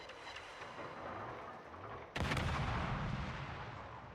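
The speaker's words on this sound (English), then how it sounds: "I will let my guns go to work" Main guns of a German tier 8 destroyer firing in World of Warships: a sharp, heavy boom bursts out midway over a low rumbling background, followed by a rolling tail, with no voices.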